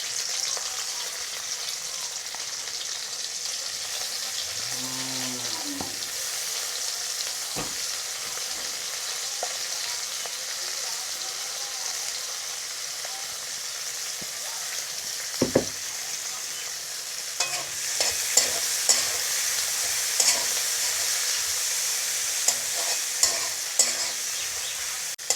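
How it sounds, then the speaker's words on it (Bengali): Chopped onions fry in hot oil left over from frying taki fish, a steady close sizzle with occasional scraping stirs and sharp clicks of a utensil against the pan toward the end. "আমি মাছ ভাজা এই তেলে পেঁয়াজ কুচিগুলো ভেজে নেব।"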